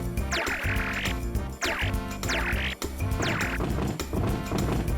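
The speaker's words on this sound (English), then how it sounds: "frog." A frog croaking in the video game Elebits, four loud, rhythmic croaks about a second apart, each a rising twangy call layered over steady game music.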